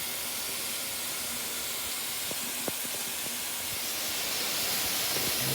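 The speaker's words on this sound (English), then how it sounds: "And then we've got misting mode. Basically supplies mist everywhere." A Bristan shower head in misting mode gives off a soft, steady hiss of fine spray, even and continuous, heard close with faint tonal hum underneath and no voices.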